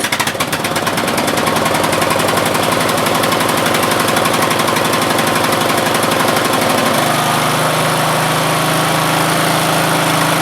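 A Craftsman LT1000 lawn tractor's 16 HP engine runs loud and steady at full throttle on its first start, with rapid rhythmic firing throughout and a slight shift in tone partway through.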